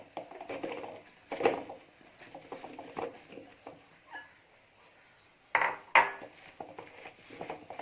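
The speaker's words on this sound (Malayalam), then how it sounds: "ഇനി നമുക്കിതിലേക്ക് കോളിഫ്ലവർ ചേർത്ത് നന്നായിട്ടൊന്ന് മിക്സ് ചെയ്തെടുക്കാം." Cauliflower is stirred into a marinade batter in a bowl, giving soft wet squelches and scraping with a few sharp clinks of utensil against the bowl, close by and without talk.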